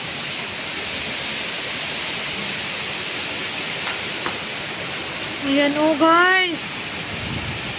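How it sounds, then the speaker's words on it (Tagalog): Heavy downpour, a steady, loud, hissing wash of rain that stays constant throughout, with someone briefly speaking over it near the end. "Narinig nyo ba ang ulan?"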